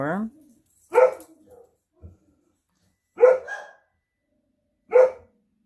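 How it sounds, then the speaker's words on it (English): A dog gives three loud, sharp barks spaced a couple of seconds apart, close by, after a brief voice at the start, with a small thump in between. "what is it without a dog barking in the middle of a video?"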